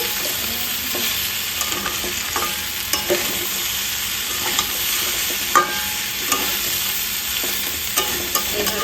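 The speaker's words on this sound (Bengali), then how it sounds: "সামান্য কিছু সময় একটু নাড়াচাড়া করে নেব।" Pumpkin and mixed vegetables are stirred in oil in a pan, with a continuous frying sizzle and a series of spatula scrapes and taps at irregular intervals.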